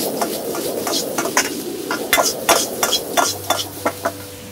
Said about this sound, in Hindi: वेजिटेबल का हम थोड़ा सा टॉस करेंगे।